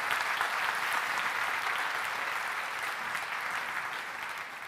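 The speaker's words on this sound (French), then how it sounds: "Donnez bien l'applaudissement pour Roger." A church congregation breaks into steady, dense applause for Roger, filling the room evenly and fading slightly toward the end, with no talk over it.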